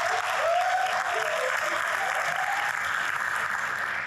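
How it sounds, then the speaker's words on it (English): At a membership seminar, an audience applauds the named tournament champion state with steady, dense clapping that holds loud and even throughout, with no voice on top. "Let's give them a round of applause."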